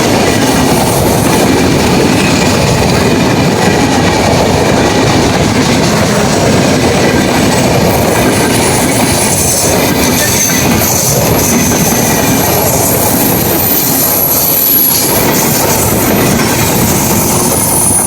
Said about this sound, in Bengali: ট্রেনটা একটু ঘুরে দেখো, ছোটন ট্রেনটা ঘুরে দেখো।